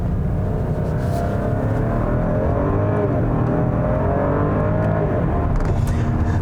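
A 2020 Porsche Cayenne with the base engine and 8-speed automatic accelerating hard, a steady, loud engine drone rising in pitch through the gears, heard from inside the cabin.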